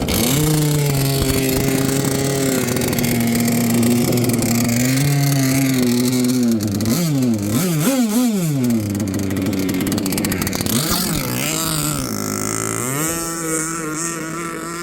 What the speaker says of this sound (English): I just like being out here running the boat.